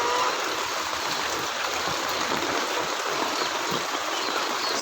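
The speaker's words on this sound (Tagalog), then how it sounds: "Ang lakas ng ulan." Heavy rain pours down steadily over a chicken coop, a loud, dense and unbroken hiss with no pauses or voices.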